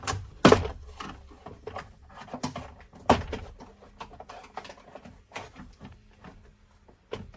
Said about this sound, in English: we need to pop all the little clips out of this door panel